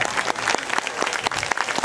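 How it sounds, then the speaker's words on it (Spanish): An audience at a live music performance claps hands together in steady, continuous applause, fairly loud and close, with no talking over it. "Escuchen las palmas."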